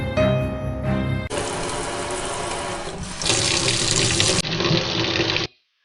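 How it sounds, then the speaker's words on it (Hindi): Water runs loudly from a wash basin tap in a kitchen, a steady splashing rush that shifts in pitch and strength partway through, with faint mechanical clicks, before cutting off abruptly near the end. "वॉश बेसिन से पानी गिरने की, बर्तन गिरने की आवाजें"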